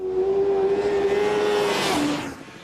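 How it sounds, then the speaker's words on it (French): A standard motorcycle on standard tyres accelerates along a race track, its engine holding a loud steady whine before shifting down in pitch as it passes and fades away. "On atteint ici les limites d'une moto standard montée en pneus standard."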